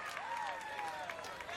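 A large crowd applauds and cheers an American Ninja Warrior run at the Houston qualifiers, a steady wash of clapping under a commentator's voice.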